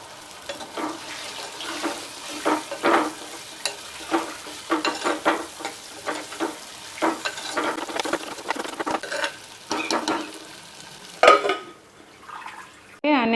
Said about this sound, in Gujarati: હવે આપણે આની અંદર વટાણા એડ કરી દઈશું,